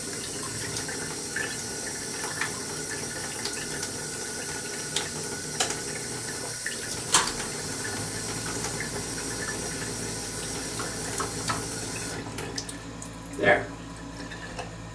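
Water trickles and drains steadily from a brine shrimp hatcher, a continuous hiss with occasional drips and gurgles, a louder splash near the end, and a voice speaking briefly.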